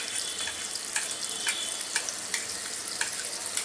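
Ginger-garlic paste fries in butter over medium heat for a rui fish tikka masala, giving a bright, constant sizzle. Soft regular scrapes or taps from stirring recur about every half second, close up, with no talking.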